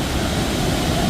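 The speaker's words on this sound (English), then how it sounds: "Finally we are at the waterfall. It's called Thiba Falls here in Kirinyaga." Thiba Falls waterfall in Kirinyaga, Kenya roars as a steady, dense broadband rush of falling water, loud and continuous with no pauses and no voices.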